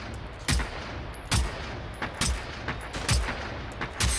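Gunfire in the video game Generation Zero: about six loud, sharp shots spaced unevenly over a steady noisy background of game ambience, each with a short booming tail, with no talk.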